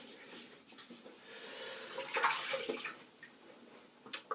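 Water is splashed onto a face before a wet shave: soft splashing and dripping at a sink, close and low, with a small sharp splash at the end.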